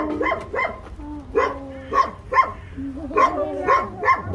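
Several dogs bark and yip in quick, uneven bursts, some barks stretching into whiny, pitched cries, loud and close in Egypt, with no clear speech over them.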